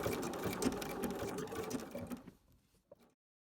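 Sewing machine running steadily as it stitches an appliqué blanket stitch around a pot shape on a background, with interfacing-backed pieces, a continuous close whir that stops abruptly near the end.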